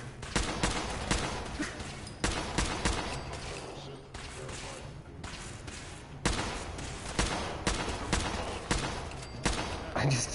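Gunfire from the video game Fallout 4: repeated loud bursts of shots in rapid, uneven clusters, with short lulls between volleys and faint game ambience underneath.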